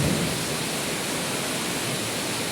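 Heavy monsoon rain pours steadily outside a house with trees out front, a dense, continuous hiss with no breaks and no voices.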